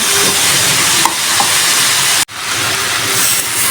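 Cabbage and carrots are stirred as they cook in a pan, a loud, close, continuous hissing sizzle with a few soft knocks and a brief break partway through.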